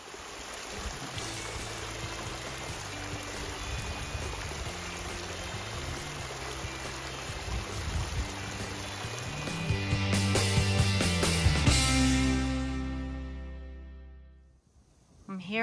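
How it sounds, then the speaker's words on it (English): A stream flows beside a hiking trail on the way to a mountain summit, a steady broadband rush of moving water that builds louder in the middle before fading out near the end. "there is a stream, a beautifully flowing stream"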